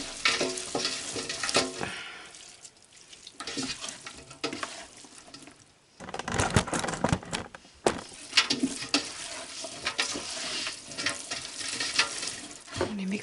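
A mixture of raw sheep's milk for Wensleydale cheese stirred in a pot, steady sloshing and swirling liquid with occasional scrapes, close and fairly soft, pausing briefly midway before resuming.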